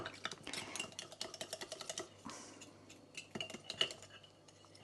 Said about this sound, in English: It'll probably mix better with a fork, actually. I have actually got a little whisk.